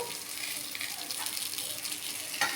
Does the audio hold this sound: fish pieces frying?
yes